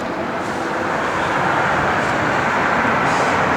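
A steady broadband roar of road traffic rolls past, continuous and fairly loud, with no talking.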